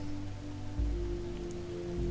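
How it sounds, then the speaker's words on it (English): Rain falls steadily on the ground and on fabric overhead, a continuous soft patter with a low rumbling undertone and no voices. "Focus on the rain instead."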